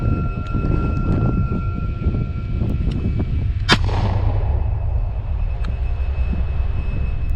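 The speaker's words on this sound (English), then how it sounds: "he'll be firing a warning shot in order to scare it away" A single warning gunshot fired to scare off a mountain lion rings out sharply outdoors amid wind noise, then fades as a rumbling echo.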